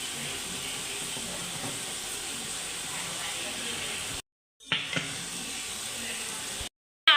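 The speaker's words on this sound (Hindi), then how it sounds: "ये कुकर तकरीबन 7 से 8 मिनट तक का लगेगा।" A pressure cooker on the stove, cooking chicken for shami kebabs, gives off a continuous loud steam hiss that cuts out abruptly twice before resuming.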